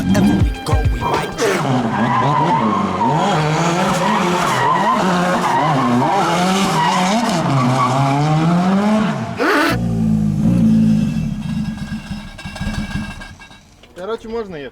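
An SR20DET-powered Nissan Stagea drift car slides sideways at a drift event, its engine roaring loud and close over sustained tire squeal, with music playing, then a sudden cutoff to quieter idling and background noise.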